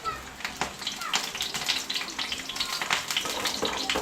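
Chayote and carrots dropped into a pan of sautéing garlic and onion, giving a steady, close sizzling and frying with stirring clatter. A voice talks over it now and then.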